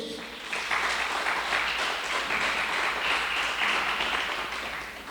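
Church congregation applauding during a worship service, a dense wash of many hands clapping together at a distance, swelling after a brief start and holding steady for several seconds without talk.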